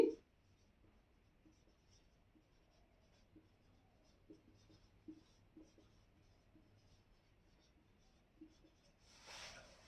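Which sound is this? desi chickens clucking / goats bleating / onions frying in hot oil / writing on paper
writing on paper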